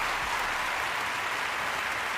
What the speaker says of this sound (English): let me give you some applause there